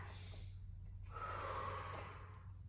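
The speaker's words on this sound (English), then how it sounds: "take a deep breath." A single deep, breathy inhale and exhale, close and soft, taken during a bent-over standing stretch for the low back and hips with knees slightly bent, in an otherwise quiet room.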